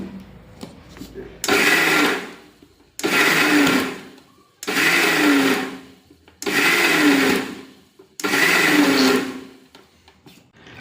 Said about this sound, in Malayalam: ഇതിലേക്ക് കുറച്ച് വെള്ളം കൂടി ഒഴിച്ചിട്ട് നമ്മൾ ഇത് മിക്സിയിലിട്ട് അടിക്കുകയാണ്.